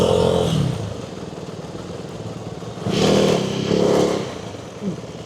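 A motorcycle engine revs up twice in quick succession, loud and close over steady rumbling road and wind noise, with a brief lower blip near the end.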